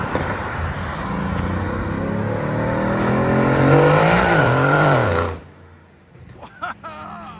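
An 850 hp Mercedes C63s AMG with a 4.0L bi-turbo V8 and straight pipes revs loudly. The raspy roar rises and falls, then cuts off abruptly into a few faint pops and crackles.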